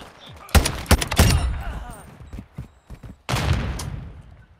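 A marksman rifle fires in a video game as a series of loud, close gunshot bursts in quick clusters, with quieter gaps and faint background game sounds between them.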